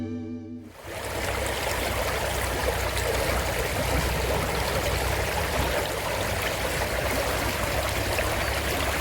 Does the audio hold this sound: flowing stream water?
yes